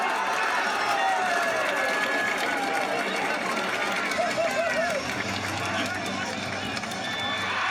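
A stadium crowd cheers as a canned soundboard effect, a steady roar of many voices with whistles and shouts throughout.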